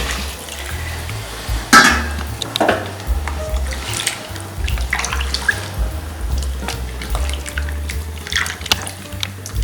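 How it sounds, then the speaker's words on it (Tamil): Water, about seven glasses, splashes and gurgles into a metal pressure cooker for chicken biryani, with clinks and stirring noises mixed in, fairly close and continuous. "இப்போ நான் 7 கிளாஸ் தண்ணி வச்சிருக்கேன். இதில் ஊற்றிடுங்க"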